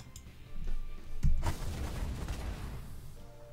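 Rapid bursts from lock-on weapons in the space strategy game The Last Federation, a sharp boom near the start followed by a dense rattling stream of firing that fades slowly, with no talk.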